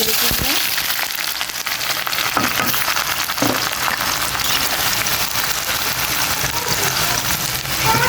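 Onions frying in hot oil in a wok give a steady, close, loud sizzle with dense crackling across the whole stretch, alone without talk.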